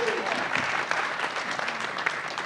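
Audience at a venture capital summit panel breaks into applause, a steady wash of clapping from a crowd with faint voices underneath, lasting the whole moment.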